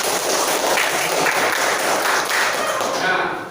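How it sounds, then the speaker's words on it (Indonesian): A classroom audience claps for a student: dense, steady applause fills the whole span at close range before tapering slightly at the very end, with no voices standing out. "Iya, beri tepuk tangan Jihan"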